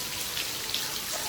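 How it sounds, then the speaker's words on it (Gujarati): Steady evening rain falls close by, a dense even patter of drops on surfaces that continues without pause and has no voices over it. "વરસાદ જો એક નંબર છે ને"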